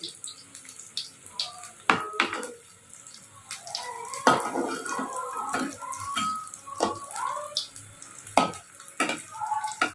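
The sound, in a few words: chicken cutlets frying in oil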